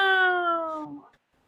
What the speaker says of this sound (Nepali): कस्तो म्याउ हौ